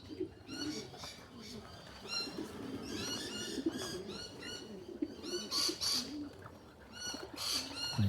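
Racing pigeons coo in an overlapping chorus close by, with occasional bursts of wing flapping and chirps mixed in.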